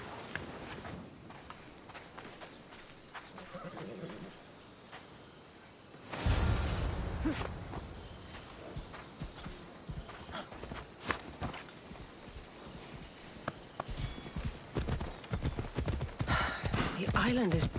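Horse hoofbeats in Assassin's Creed Odyssey, a steady clip-clop of riding over ground on a Greek island. The clopping starts quietly, then grows louder and fuller, continuing evenly over game ambience while voices talk.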